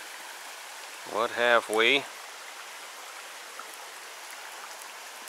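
A small mountain creek, Mulky Creek in North Georgia, flows with a steady, soft broadband wash throughout, briefly interrupted by someone speaking a short phrase over the water.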